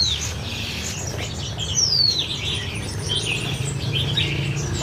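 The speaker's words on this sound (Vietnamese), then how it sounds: "Em này nắm trên tay hót luôn" A Hồng Hạnh songbird, a violet-blue cage bird, sings in a series of thin, high chirps and short whistled phrases, moderately close, over steady low background noise, with no talking.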